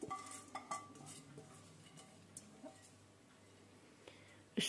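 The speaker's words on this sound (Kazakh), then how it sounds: "Бірінші қазанға күрішімізді салып аламыз." Rice poured into a cooking pot (qazan), with a few light metallic clinks and scrapes early on, then mostly quiet low kitchen hum and a sharper knock at the end.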